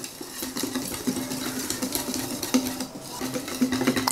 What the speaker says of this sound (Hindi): अब अच्छे से मिक्स करेंगे